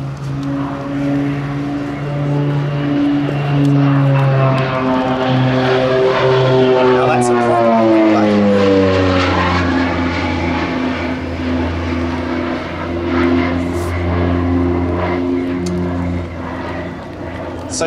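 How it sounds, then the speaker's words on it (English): A North American OV-10B Bronco, the German Air Force target-tug version, flies past at the Biggin Hill Airshow 2016; loud droning propeller engines sweep by with a falling pitch as it passes, and a voice talks over it. "This is in fact the OV-10 Bravo B model, used by the German Air Force as a target tug."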